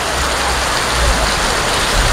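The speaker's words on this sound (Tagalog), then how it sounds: "So grabe yung lakas ng ulan dito." Heavy rain pounding on a vehicle with a torn roof cover, a dense, steady hiss of drops drumming on the surface, loud and close throughout with no distinct voices.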